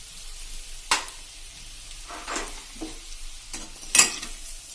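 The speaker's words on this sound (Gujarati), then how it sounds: "હવે આપણે આમાં ચીલી જે લીલા મરચાંના કટકા કર્યા છે એ નાખી દેશું." Chopped green chillies fry in a pan while being stirred, making a quiet sizzle broken by a few distinct scraping stir strokes at irregular intervals.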